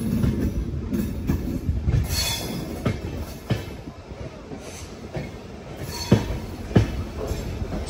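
A train rolls into Sakleshpur railway station during monsoon, with a constant loud rumble, irregular clacks over rail joints and thin wheel squeals, no talking.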